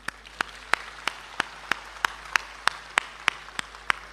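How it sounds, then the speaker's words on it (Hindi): An audience at a Hindi poetry recitation by Kumar Vishwas claps in slow, evenly spaced beats, about three per second, each clap a sharp crack over a quiet hall. "आपका आदेश हो तो मुझे तालियों से बताइए"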